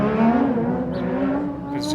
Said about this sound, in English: there was motorcycles in the background there